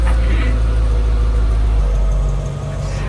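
Mercedes E55 AMG engine running at idle on a lift, a steady loud low rumble with a brief rise at the start, settling lower toward the end.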